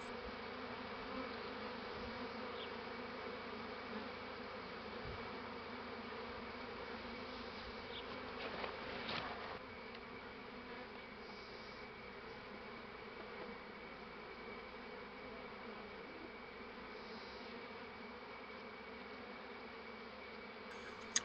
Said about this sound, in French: les abeilles s'installent de tous les côtés